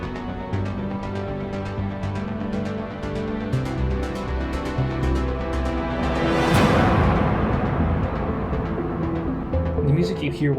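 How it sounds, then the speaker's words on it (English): Bunker music from the game Mass Effect: a dense, continuous electronic score with steady pulsing beats and a swelling wash near the middle, played loud and alone. "The music you hear while in a bunker is probably my favorite in the game."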